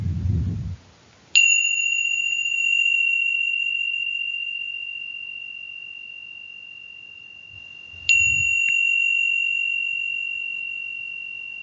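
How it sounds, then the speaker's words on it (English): A small meditation chime rings twice, each strike a clear bright tone that sustains and slowly fades, the second struck several seconds after the first, with a soft breathy rustle just before each ring. "when I ring a little chime to end this short practice"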